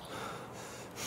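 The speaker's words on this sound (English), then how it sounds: "You can hear me breathing, huh?" Heavy, rushing breath into a headset microphone during a Tarkov gaming session, a close, noisy exhale swelling near the end, with no talking.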